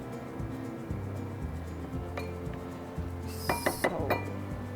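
Dough is mixed in a bowl, with soft scraping and light clinks of a utensil against the bowl, quiet and close, with a few sharper knocks near the end.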